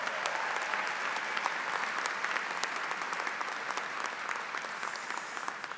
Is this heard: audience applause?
yes